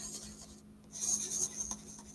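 A paintbrush swirls paint in small circles on paper, giving a soft, close, faint brushing and rubbing sound that comes in short strokes with no voices.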